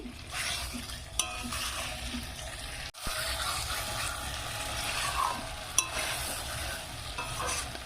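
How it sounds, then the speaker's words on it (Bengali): Fried potatoes being stirred into a spice masala in a pan over a high flame, with a steady sizzle and scraping stir strokes, close and continuous, plus a couple of sharp clinks. "ভেজে রাখা আলুগুলো দিয়ে একটু এইভাবে মিশিয়ে নেবো"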